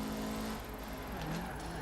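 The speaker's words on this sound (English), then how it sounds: "A bit of turbo flutter as well." A Mitsubishi in the racing game Forza Horizon 4 drones with a close, steady engine tone and turbo flutter in a short burst.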